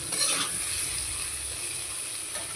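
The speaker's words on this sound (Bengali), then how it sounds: "আলুগুলোকে ঠিক এভাবে লাল করে ভেজে নিয়েছি।" Potatoes frying in oil in a kadai over a gas flame, a steady close sizzle with soft stirring scrapes, no voices.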